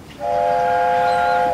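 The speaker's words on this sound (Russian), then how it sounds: "Это же гудок, Билли." Steady harmonic train whistle in a children's cartoon about a construction train fixing a bridge, sounding as one long sustained blast that starts after a brief pause and holds loud and clear to the end, with no talking.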